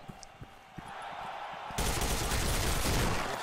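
Weapon fire in the shooter SKILL on PC: a few sparse shots early, then a loud sustained burst of rapid automatic gunfire filling the second half, with no talking.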